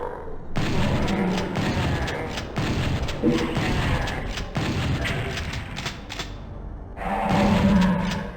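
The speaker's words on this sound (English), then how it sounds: "like take the shotgun sound, for example" Shotgun blasts from the PS1 version of Doom, three or four deep, booming shots spaced a second or two apart, each followed by a mechanical reload clack, with a voice talking over them.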